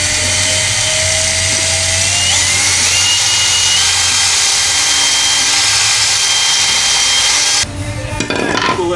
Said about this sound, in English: So we drilled out the bushings.